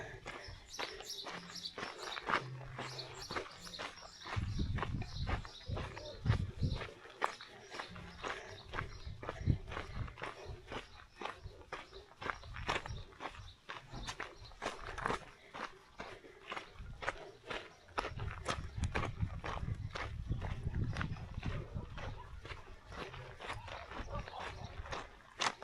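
Donkeys walking through a small remote Mexican town, their hooves clip-clopping in a steady, irregular stream of sharp close taps over outdoor ambience.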